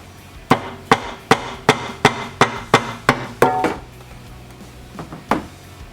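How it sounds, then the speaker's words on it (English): A rubber mallet taps the metal timing cover of a 2006 Dodge Magnum SRT8 about a dozen times in a steady rhythm, sharp and close, then two or three more scattered knocks after a pause. "we're going to use a rubber mallet and try to tap it"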